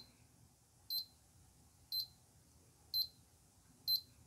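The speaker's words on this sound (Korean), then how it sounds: "얘 같은 거 지금 삐삐삐 거리는 거 있죠" A power supply tester beeps four times at a steady one-second rhythm, short high-pitched bleeps over a quiet hum, warning that the graphics card auxiliary power is not connected while testing a PSU for a 3.3V voltage fault.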